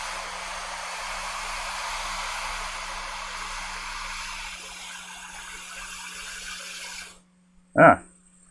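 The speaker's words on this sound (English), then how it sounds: "Hot air and flux will boil it all clean." A hot air rework station blows a steady rushing hiss onto a chip coated in flux on a MacBook Air logic board, fading out after several seconds before a brief louder knock.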